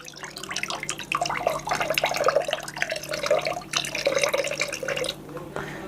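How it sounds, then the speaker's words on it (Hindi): Water pours into a bucket while a Sting-style energy drink flavor is being mixed, making a steady splashing, trickling flow that runs for several seconds and pauses briefly near the end. "और थोड़ा सा पानी के अंदर आपको ऐड कर देना है।"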